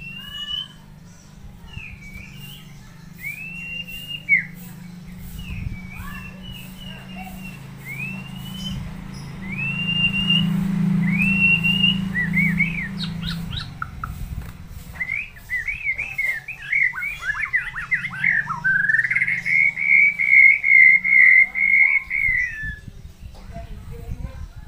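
A white-rumped shama (murai batu) sings a long, varied series of bright chirps, trills and whistles, close and clear over a steady low background hum, building to a sustained warbling phrase near the end.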